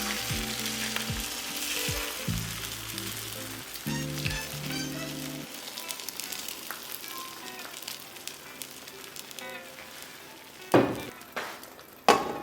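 Small pieces of food frying in a pan with added broth, a steady close sizzle with a few utensil clinks, then quieter bubbling and two sharp knocks near the end; no talking.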